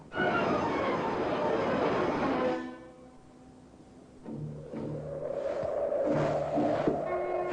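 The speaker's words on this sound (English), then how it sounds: "Jim Hudson took his package on the train with him on Monday morning" A train rumbles along the rails in a classic radio drama, loud at first, then quieter, followed by a sustained metallic tone and rhythmic clanking as it keeps moving.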